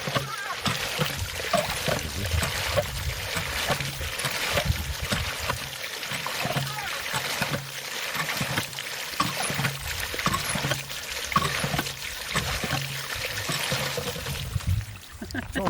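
Water streams steadily from a fountain in a continuous broadband rush with a trickling texture, fairly close, while people talk over it in bursts throughout.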